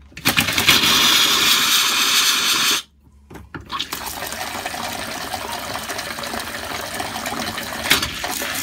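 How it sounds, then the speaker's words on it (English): Air pushes water out of RV water lines: water gushes and sputters loudly, cuts off abruptly, then resumes as a steadier hissing flow mixed with air, with a brief burst near the end. "All the air being is pushing all this water out."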